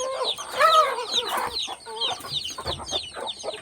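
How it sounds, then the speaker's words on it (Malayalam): Newly hatched chicks let outside chirp in quick, high, overlapping peeps close by, mixed with soft clucking from the flock in a lively, uneven cluster of calls. "നമ്മൾ പുറത്തിറക്കിയുള്ള കോഴിക്കുഞ്ഞുങ്ങളാ."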